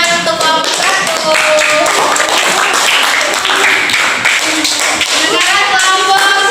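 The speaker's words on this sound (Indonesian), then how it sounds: "Beri tepuk tangan untuk kelompok 1." A classroom of children claps together for a group of pupils, a dense, continuous burst of clapping held steady throughout, near and loud.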